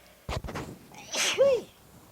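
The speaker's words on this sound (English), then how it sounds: "Oh, I'm going to sneeze." A single sneeze with a sharp inhale build-up followed by a loud, bursting expulsion, close to the microphone.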